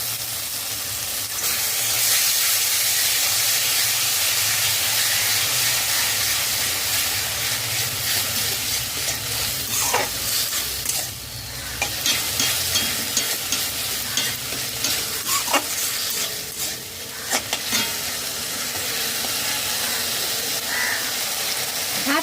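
Three tablespoons of onion paste fry with garlic paste in a pan, giving a steady, close sizzle with repeated stirring and scraping throughout.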